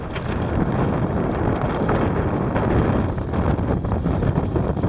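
Strong wind buffets the microphone in a steady, loud roar, with gusty low rumbling and hints of water splashing nearby, while sailing a kayak.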